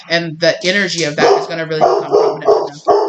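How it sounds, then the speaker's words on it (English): A dog barks in the background of a home recording, the barks mixed under continuous close talk from someone speaking throughout. "Sorry about my dog barking in the background"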